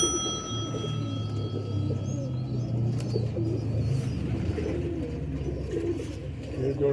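Patti-marked pigeons cooing steadily at close range, a low throaty murmur running throughout over a faint background hum, with no talk.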